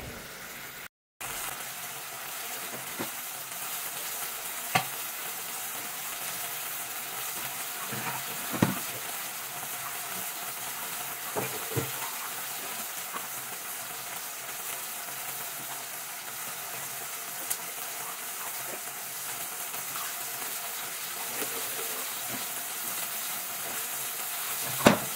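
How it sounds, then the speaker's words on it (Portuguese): Food browns in a hot pan at home while a simple dinner is made, giving a soft, steady sizzle with faint crackles and occasional small pops, heard alone at low level. "Aí eu vou deixar dourar de um lado pra depois dourar de outro lado."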